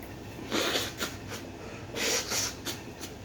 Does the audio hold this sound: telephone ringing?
no